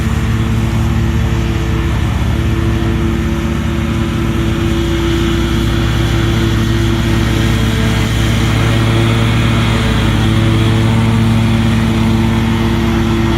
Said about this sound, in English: Good looking mower right there.